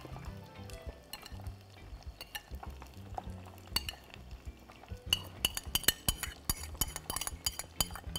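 Cubed chicken frying in a pan as a utensil stirs it, with soft sizzling under repeated scraping and clinking that grows busier toward the end.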